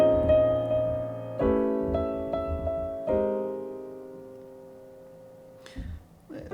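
Jazz piano chords played as a tritone substitution, an A dominant 9 voicing: a sustained low chord, a few lighter repeated stabs, then another held chord ringing and decaying, clear and solo.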